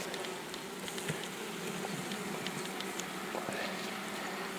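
Honeybees hum steadily around their hives at a forest apiary, a dense, continuous close-up drone with a few louder individual buzzes passing near.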